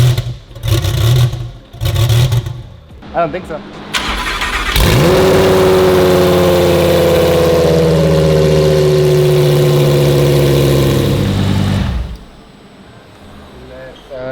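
Car fitted with Valvetronic exhaust headers cranks and fires up with a loud burst, then settles into a steady, throaty idle for several seconds before cutting off, with people talking before it starts.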